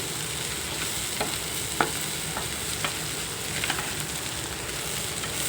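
Green peas fry in a little oil with a constant low sizzle, while a spoon stirs and scrapes the pan now and then in soft, irregular clicks, close and fairly quiet.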